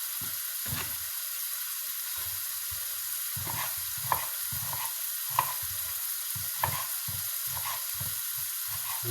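Onions frying in a pan give a steady sizzle, with soft knocks and scrapes of stirring at irregular intervals and a few sharper clicks, close by and with no talking.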